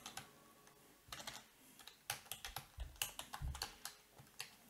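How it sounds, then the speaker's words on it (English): Keyboard typing on a computer, entering an IP address into a PuTTY SSH session: a brisk run of sharp key clicks that starts sparse, then grows denser and louder with several firm keystrokes, close and alone with no talk. "I will type in the IP address again."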